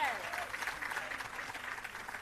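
Applause at a graduation ceremony for restorative justice facilitators, a steady, moderately distant patter of clapping throughout with a brief rising whistle or whoop at the start.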